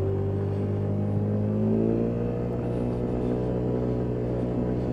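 A Lexmoto Echo 50cc motorbike rides through town at around 30 mph, its small engine holding a steady buzzing drone that rises slightly in pitch, with wind rush underneath and no talking.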